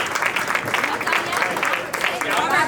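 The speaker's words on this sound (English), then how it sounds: "One more round of applause for all these wonderful scouts." Parents and families clapping for Cub Scouts at an Arrow of Light crossover ceremony, a continuous dense round of applause at fairly close, even loudness.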